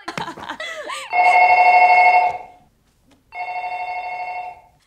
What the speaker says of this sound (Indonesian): Namun tiba-tiba telepon berdering.